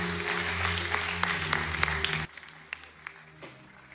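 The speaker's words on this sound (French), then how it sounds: "Quelqu'un acclame le Seigneur." A church congregation claps in a dense burst of applause for about two seconds, then thins to scattered, fading claps in the hall.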